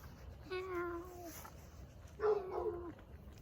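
Cat meowing, two drawn-out, whining meows about a second apart, close and fairly loud against a quiet background.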